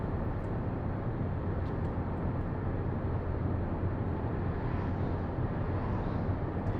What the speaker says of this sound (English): I mean, you can hear the engine.